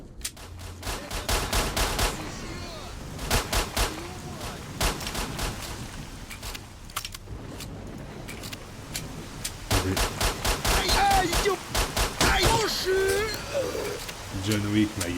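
Rapid bursts of automatic gunfire from the video game Stalker, loud and close, with repeated volleys of sharp shots broken by brief pauses, while a voice talks over parts of the shooting.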